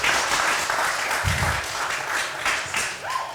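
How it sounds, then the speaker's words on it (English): Crowd at a LAN gaming event applauds the first-place Counter-Strike team, with sustained clapping and a few brief sounds rising over it. "All right, everybody give them a big round of applause."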